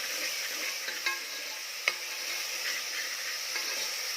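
Ginger-garlic paste and onion for Kolhapuri mutton frying in a pan, a soft constant sizzle broken by a couple of sharp spoon clicks and stirring scrapes.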